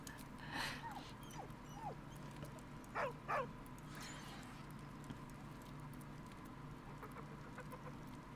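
Dog sounds from the video game Baldur's Gate 3: a few short whimpers and yelps, with two brief louder cries midway, over a steady game ambience bed with faint clip-clop-like ticks.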